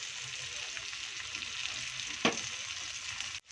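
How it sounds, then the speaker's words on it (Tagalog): Onion and garlic sautéing in a pan give a steady, close sizzle with a single sharp knock of a utensil partway through; no one speaks. "pwede na natin siyang igisa sa sibuyas, bawang"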